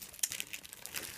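Soft crinkling of thin plastic bags as homemade chocolate hearts and nut chocolates are packed into them, with faint scattered rustles and a couple of sharper crackles, close by and quiet.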